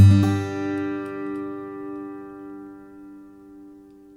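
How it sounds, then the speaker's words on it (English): A single strummed guitar chord rings out clearly and slowly fades away over a few seconds, alone with no other sounds. "we maintain a bit more of that guitar's natural decay there"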